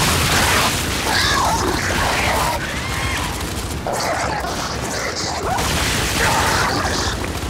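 A loud, continuous barrage of explosive bursts and whooshes from a Gears 5 firefight, with grenade blasts merging into dense gunfire and crashing debris, with no pause across the stretch.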